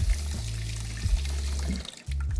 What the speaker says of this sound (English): Just a quick rinse under some lukewarm water